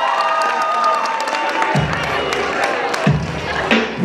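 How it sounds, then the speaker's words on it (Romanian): A school audience at a freshman pageant at a Romanian high school applauds and cheers, a sustained wash of crowd clapping and shouting, moderately loud, with a few thumps standing out. "Le primim cu aplauze!"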